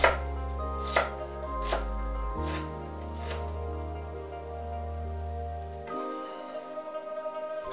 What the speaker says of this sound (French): les pois gourmands coupés en julienne